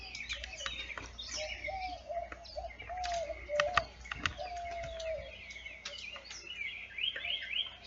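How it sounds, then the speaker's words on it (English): Several birds chirp and warble on a foggy spring morning in a residential yard, with repeated short tweets and coos, fairly close and alone against faint background hum. "Hearing the birds singing."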